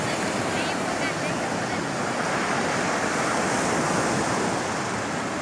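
Steady roar of ocean surf at Baler beach, continuous and loud with washing waves and wind buffeting the microphone, no voices.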